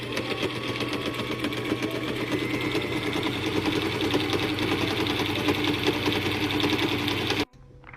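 Sewing machine stitching thrifted fabric into shorts, a steady fast mechanical whirring and rattling that runs loud and close for about seven seconds before cutting off abruptly.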